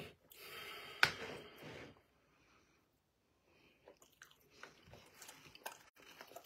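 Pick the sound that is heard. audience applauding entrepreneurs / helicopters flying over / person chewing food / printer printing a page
person chewing food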